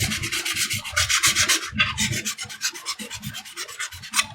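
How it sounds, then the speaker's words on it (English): Rapid back-and-forth scratching of sandpaper rubbing glossy plastic stormtrooper chest armor, in short rhythmic strokes that continue steadily, close up, with no talking. "You need to create this little tooth right here so it will stick permanently. Just keep on sanding."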